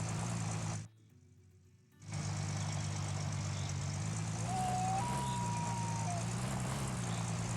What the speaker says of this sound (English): Oh, bouncy truck. Wow, this is some serious off-roading.